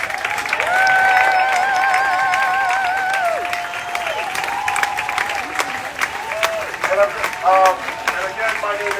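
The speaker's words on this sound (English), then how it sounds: "Please give the kids a round of applause." At a Juneteenth event at PS 32 in Carroll Gardens, a crowd applauds the kids, with scattered clapping mixed with voices and sustained singing or music throughout.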